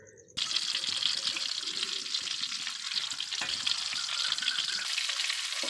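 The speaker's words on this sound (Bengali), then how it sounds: "সুন্দর করে ডিমটা আমরা ভাজছি।" Eggs sizzle and crackle in hot oil in a wok, starting after a brief quieter moment and then holding a steady, close, bright frying hiss with faint stirring underneath.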